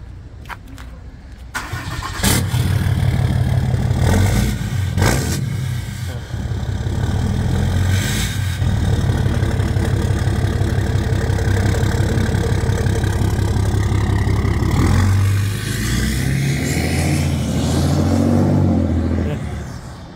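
A Ram truck drives up the road, its exhaust pipe giving a loud, steady engine rumble that holds strong from start to finish before easing slightly near the end.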